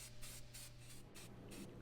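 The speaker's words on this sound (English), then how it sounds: "Lightly apply the spray paint from a 6-inch distance." Gray Rust-Oleum automotive primer sprayed from an aerosol can onto a model speeder bike, heard as a series of short hissing bursts, about six quick sprays in under two seconds, close and fairly quiet with no talk.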